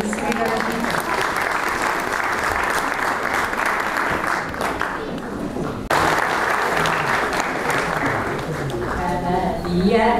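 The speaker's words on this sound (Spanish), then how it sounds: "Así es que un fuerte aplauso" A crowd applauds steadily and loudly throughout, with a voice speaking over the clapping.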